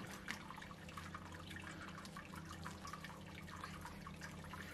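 Sparge water running steadily into a mash during all-grain brewing of a Schwarzbier on a nano brewery system, a soft continuous trickle and splash at close range with no talking.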